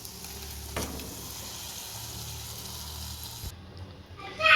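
Tempering poured into a pan of fish curry simmering with separated oil, a steady close sizzle and bubbling with a brief spike as it goes in, ending in a sharper hiss.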